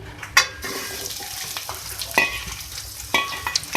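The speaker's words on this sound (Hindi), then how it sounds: "ये देखिए, इस पर जो फ्राई हो रही है हमारी प्याज" Two medium onions frying in oil in a pan: a continuous soft sizzle with intermittent scraping stirs and small crackling pops, close and low in level, without speech.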